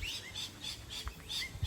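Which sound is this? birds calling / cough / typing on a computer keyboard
birds calling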